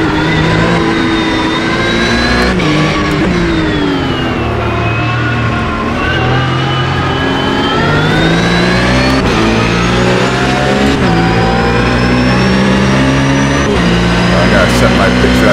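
A train of racing cars at Le Mans screams past in a continuous, very loud wall of engine noise, with revs climbing and dropping through gear changes as one car after another goes by.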